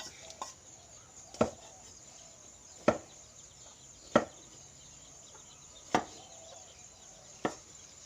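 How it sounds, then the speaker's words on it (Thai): A knife chops sponge gourd (luffa) into sticks on a board, five sharp separate strokes at irregular intervals, close and fairly quiet over a faint steady hiss. "หั่นบวบนะครับ"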